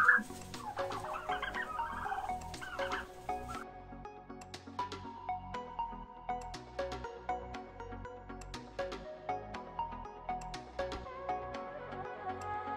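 A flock of turkeys clucks and chatters continuously at a moderate distance in a family poultry yard, many overlapping calls with a busy, irregular rhythm.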